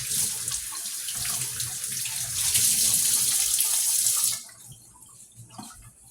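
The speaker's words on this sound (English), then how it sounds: "I'm just gonna wipe all of this off of my hands, rinse it off of my hands." A kitchen tap runs steadily as hands are rinsed under it after handling seasoning for baked chicken, a close continuous splashing flow that cuts off abruptly near the end, leaving quiet room tone.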